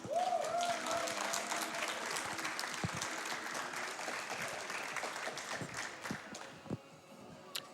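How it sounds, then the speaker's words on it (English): Sustained applause from an audience at a speedrunning charity marathon, a dense wash of clapping that gradually thins out toward the end. "Let's get another round of applause for Bullets."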